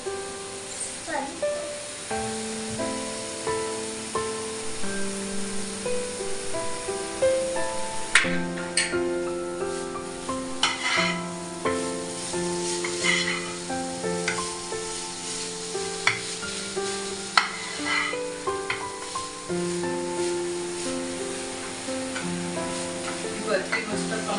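Ghee is stirred into a coconut barfi mixture in a pan, giving a soft sizzle and intermittent scraping strokes beneath prominent melodic background music.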